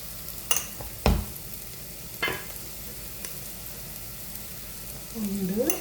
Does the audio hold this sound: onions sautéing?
yes